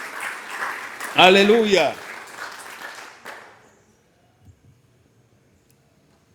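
A church congregation applauds during a sermon: a brief burst of clapping mixed with a loud voice calling out, then quickly dying away into near silence.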